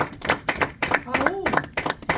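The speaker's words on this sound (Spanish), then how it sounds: "Dar un aplauso." A church congregation at a Bible study claps in a brisk, rhythmic pattern of close, distinct claps while a voice sounds over them.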